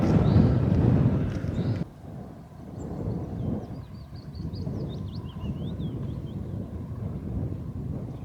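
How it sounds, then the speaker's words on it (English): Strong wind buffets outdoors beside a river during fly fishing, with a heavy roaring gust that abruptly drops to a steady, rumbling blow, and faint bird chirps come through in the background. "Wind is picking up a good bit"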